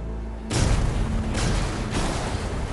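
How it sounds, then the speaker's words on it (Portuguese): Torpedo explosions striking a tanker ship in a submarine video game: a heavy boom bursts in after a half second of quieter rumble, followed by further dull blasts rolling into a sustained, loud low roar. "Outras 3 explosões selam o destino do navio tanque."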